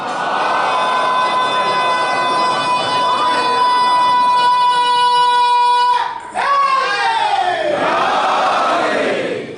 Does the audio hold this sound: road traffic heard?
no